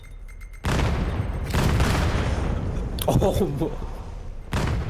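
A grenade blast in the VR shooter VAIL lands as a heavy broadband boom amid continuous gunfire and game noise, loud and close, with a voice exclaiming over it.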